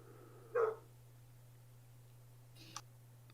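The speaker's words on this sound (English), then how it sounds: "Probably another dog out there." One muffled dog bark sounds in the distance outdoors, followed a couple of seconds later by a fainter, brief second sound, all over a steady low electrical hum.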